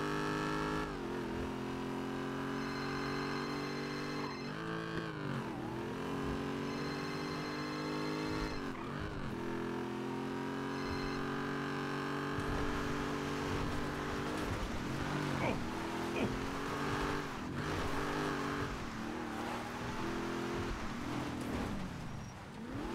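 Revving engine of an off-road vehicle likened to a trophy truck on a test drive, running continuously with rising and falling pitch as the throttle is worked, loud and close, with people talking over it.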